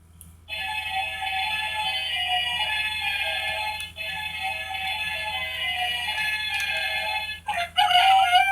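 A toy chicken crows loudly and steadily for several seconds with a brief pause midway, then ends in a short burst of clucking sounds, with no talking.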